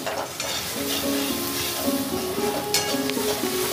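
Ground cumin and coriander fry over high heat in a Bengali kitchen, a steady close sizzle with the scrape of a spatula stirring through the pan, no voices.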